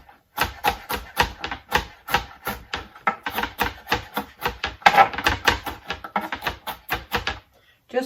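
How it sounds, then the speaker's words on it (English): A knife roughly chopping garlic cloves on a board, a quick, close, even run of sharp taps with brief pauses, loud and clear with no talk over it. "Just a rough chop of the garlic is all we need."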